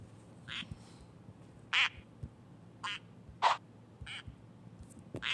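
Five or six short duck quacks from a golden duck in a Roblox game sound at irregular intervals over a low background hum, fairly close and distinct.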